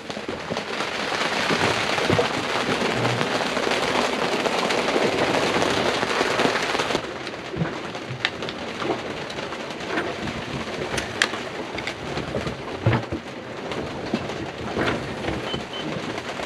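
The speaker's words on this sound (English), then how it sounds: "And now the rain is here." Heavy rain roars in a dense hiss for several seconds on a sailing boat at sea on the North Sea, then eases to a softer patter with scattered louder drops and taps.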